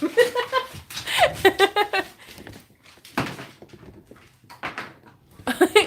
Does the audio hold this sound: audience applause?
no